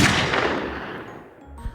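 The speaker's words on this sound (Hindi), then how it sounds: "वो गोली चला देता है, पर वो गोली पेड़ पर जाकर लगती है" A single gunshot sound effect fired in a zombie story: one loud, sharp burst that rings out into a long, fading tail, with no voices over it.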